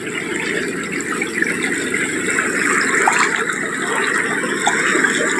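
River water flows steadily around a person standing in the shallows, making a loud continuous rushing gush with no breaks or voices.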